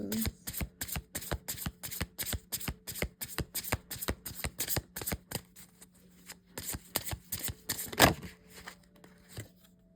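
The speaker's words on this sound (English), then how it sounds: "These are my soul light cards. They're new cards that I have." A deck of soul light oracle cards is shuffled by hand in rapid, evenly spaced riffling flicks, close and crisp, continuing for several seconds with a brief pause and one sharper snap near the end.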